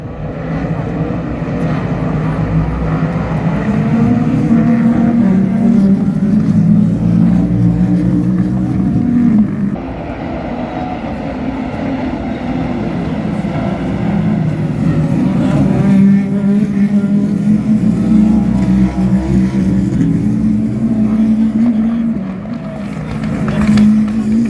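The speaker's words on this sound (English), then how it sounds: "this is not how the Porsche sounds" A Porsche engine in the racing video game Gran Turismo 7 drones loudly and continuously, its pitch rising and falling with gear changes over about twenty-five seconds.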